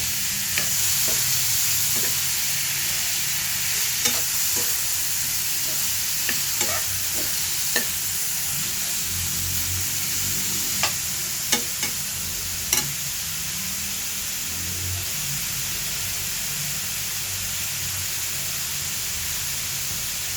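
Sliced bitter gourd (ampalaya) sautéing in a pan gives a steady, close sizzle with scattered clicks of a utensil stirring, and it carries on for twenty seconds without talk.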